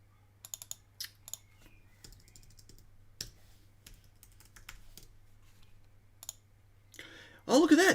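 Quick, uneven keyboard typing clicks in short bursts at a computer, moderately close and fairly quiet, with a louder rustling burst at the end.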